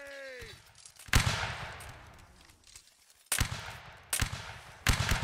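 Musket volleys at a line battle reenactment by the 75th Stirlingshire, four sharp, loud cracks spaced a second or two apart, each ringing out briefly over quieter background and distant voices.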